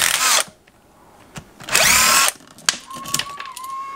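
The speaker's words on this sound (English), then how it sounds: "I'm zipping the screws all the way out." A power drill zips screws out of an electrical outlet in a mobile home kitchen remodel, with two close, loud whirring bursts separated by quiet, then a few clicks and a thin fading whine.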